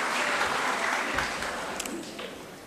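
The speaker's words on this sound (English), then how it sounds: "give yourselves a round of applause" Audience at a Dominica Grammar School graduation in 2022 claps in a steady, dense burst of applause that slowly thins toward the end, with a few sharper claps standing out.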